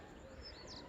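Parrots and small birds chirp faintly and briefly in the distance behind a house on an evening in a village with peacocks, over a quiet, steady background hush.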